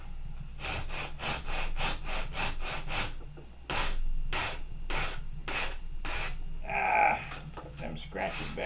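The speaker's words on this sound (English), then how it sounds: "So you just watch me sand 40" Sanding a horn clip by hand with 40-grit abrasive: a run of about a dozen rough, rhythmic strokes, close and fairly loud, with brief pauses between them.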